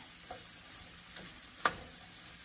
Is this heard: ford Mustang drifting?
no